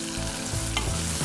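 Onions fry in oil in a non-stick pan while a wooden spoon stirs them, giving a brief, even sizzle with a soft scrape of stirring, moderately quiet and with no voices.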